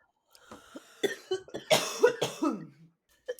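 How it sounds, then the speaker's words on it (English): A close, harsh fit of coughing after a bong hit, several rough hacks in quick succession with wheezy breaths between, then a last cough after a pause. "If you're just listening to us take bong rips and cough after"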